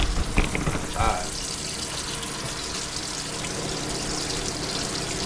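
Tap water runs over raw pork chops in a kitchen sink, a steady close hiss with brief splashing at the start.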